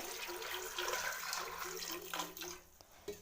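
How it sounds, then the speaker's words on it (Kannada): Water pours into a pressure cooker holding dal and chopped potatoes, a soft, steady splashing hiss that is faint and brief, with no talk. "ಸ್ವಲ್ಪ ನೀರು ಹಾಕೋತೇನೆ"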